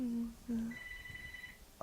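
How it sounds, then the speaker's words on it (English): A telephone rings faintly in a home during an interview, a thin trilling bell tone lasting about a second that rises under and after low speech. "Oh, that's the phone."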